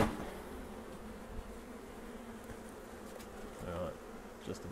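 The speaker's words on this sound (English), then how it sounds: "Just about all the bees out of there now. Very few left. And lots more in the air." A dense, continuous buzz of a honey bee swarm fills the air, steady and fairly loud, swelling slightly now and then.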